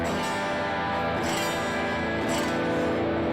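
An electric guitar strummed across all open, unmuted strings, ringing full and sustained with a couple of fresh strums, no talking.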